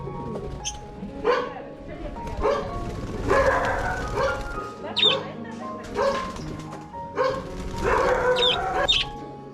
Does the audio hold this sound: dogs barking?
yes